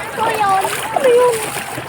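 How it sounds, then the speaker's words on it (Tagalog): Strong waves slapping against a small wooden bangka boat at a beach, splashing close by in uneven bursts while excited voices, including a child's, talk over the water. "ang lakas ng alon dito"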